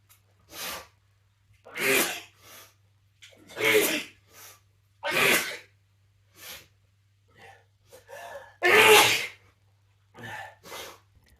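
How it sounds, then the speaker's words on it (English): A man sneezes again and again, a run of about six or seven sharp, loud sneezes with quick gasping breaths between them, over a faint low steady hum. "bracing himself this time as he succumbed to a whole new round of sneezing."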